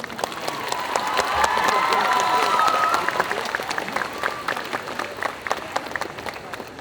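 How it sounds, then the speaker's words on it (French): A crowd at a group cosplay contest at Japan Addict Z convention applauds and cheers, a broad roar that swells early then thins into scattered, distinct claps, with some voices mixed in. "tonnerre d'applaudissements pour Chiara"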